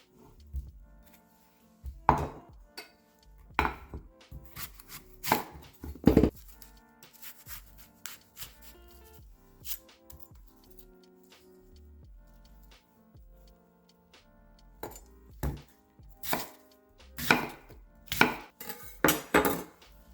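Knife strikes on a cutting board as an apple is chopped, sounding in short bursts of sharp close taps separated by quieter pauses, with a faster run of chops toward the end.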